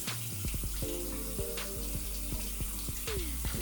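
Water running into a bathroom sink during a facial skincare routine, a faint steady trickle and splash with small knocks and clinks, close but quiet, no talking.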